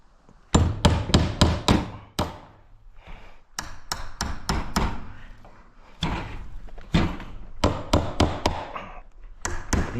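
A hammer drives a nail into a hard yellow pine stud in a garage, with loud, close, rapid bursts of sharp strikes separated by short pauses, and faint voices now and then.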